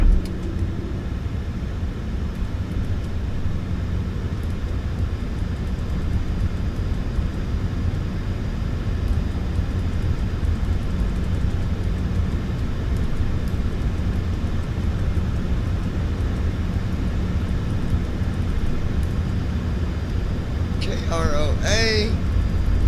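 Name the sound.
airplane taxiing at airport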